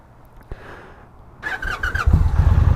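An Indian Challenger motorcycle engine cranks and catches after a click, then settles into a loud, close, throaty rumble that grows steadily heavier to the end.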